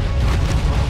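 A short, heavy boom from an explosion in the video game ARK, deep and rumbling, filling the whole moment with no voices.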